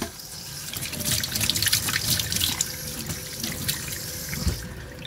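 Tap water runs and splashes into a kitchen sink as a container of coconut milk is rinsed during rajma cooking, a continuous close wash of flowing water that trails off near the end, with no talking.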